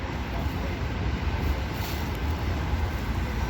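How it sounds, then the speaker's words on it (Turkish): Steady low rumble of a station with a train running nearby, a continuous broadband roar and no clear voices. "Burası da metro istasyonu."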